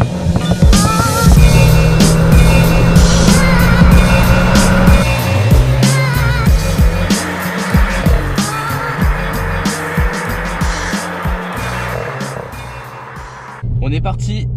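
A car fitted with a Silence Tube exhaust silencer pulls away and drives on, its engine droning loud and close with shifting revs throughout, and a voice talking over the engine noise.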